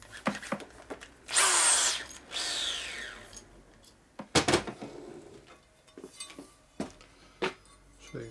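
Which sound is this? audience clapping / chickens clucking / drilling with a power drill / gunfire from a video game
drilling with a power drill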